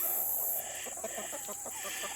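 Hens cluck softly in a farmyard flock, a run of quick, faint clucks at some distance over steady background hiss.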